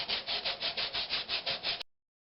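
A natural-edged oak bowl is hand-sanded with 100-grit paper in quick, even back-and-forth rubbing strokes, about a dozen rhythmic scrapes close up, ending abruptly.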